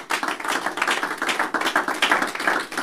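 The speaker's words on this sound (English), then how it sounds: "Clap your hands for the Lord." A worship congregation clapping their hands for the Lord, a dense, lively patter of many hands sustained for a few seconds with no talk over it.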